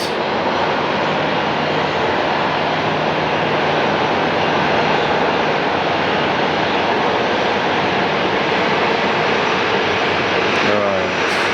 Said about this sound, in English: let's check out American Airlines 2133, short final runway 8